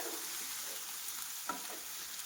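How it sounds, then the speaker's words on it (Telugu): Amaranth leaves fry in a pan while being stirred, a soft continuous sizzle with a light scrape or two of a spoon, quiet and close, no voices. "ఒకసారి కలుపుకుందాం మధ్యలో."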